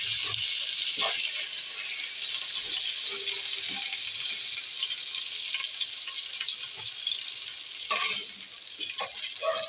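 Pork pieces fry steadily in a pan ahead of making sinigang, giving a continuous bright sizzle with occasional utensil clinks and brief stirring scrapes throughout.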